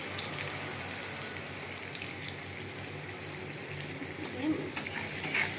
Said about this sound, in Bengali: একটু কষে নেবো মশলার সঙ্গে, সামান্য একটু জল দেবো